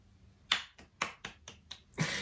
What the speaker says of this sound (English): Ow, that was a loud clap.